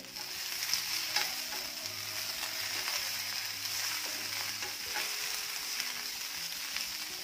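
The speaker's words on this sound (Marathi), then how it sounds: "मध्यम आचेवर भेंडी सगळ्या बाजूने छान अशी भाजून घ्यायची आहे" Okra (bhindi) frying over medium heat in a pan, a continuous soft sizzle with a few light stirring scrapes, close but fairly quiet and steady throughout with no talking.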